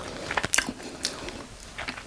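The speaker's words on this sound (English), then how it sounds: "Nice crunch from the onions coming through." Someone bites into a crunchy fried aloo keema potato and mince cutlet with onions and cumin, making a few sharp close-up crunches followed by softer chewing.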